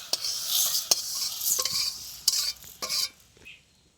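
Fried mung dal poured from a pan into a pot makes a close, bright rattling and scraping, with several sharp utensil knocks against metal and no talking.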